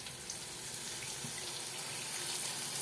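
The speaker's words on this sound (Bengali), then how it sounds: "জল ঢেলে দেব" Water poured from a vessel into a cooking pot of boiled food in a home kitchen, a steady continuous splashing stream with no voices.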